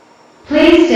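An automated airport transit train at a terminal platform: near-silence gives way halfway through to a loud, steady mechanical hum and whine with sustained tonal layers.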